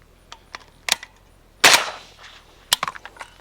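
Suppressed rifle shots from a rifle fitted with a Carson suppressor: one loud sharp report followed by a short decaying tail, surrounded by lighter clicks and clatter of the action and ejected cases.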